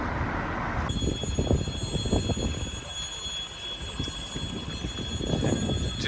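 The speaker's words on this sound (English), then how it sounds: "there's a train coming" A train runs through Udelnaya station, an old unrenovated Soviet-era platform, with a loud continuous rumble and clatter of wheels under a steady high whine, close by, with no talk.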